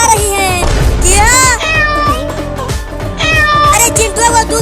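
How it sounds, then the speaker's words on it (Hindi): Several cats meow loudly and repeatedly close by in an animated Hindi cartoon scene where three cats chase a boy, the cries rising and falling in overlapping bursts. "ये तीनों बिल्लियाँ मुझे काटने के लिए दौड़ा रही हैं।"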